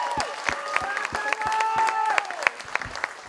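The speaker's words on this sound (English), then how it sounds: "Can we get one last round of applause for Taylor?" A symposium audience gives a round of applause: dense, steady clapping from a crowd in a hall, with a few voices and whoops rising over it throughout.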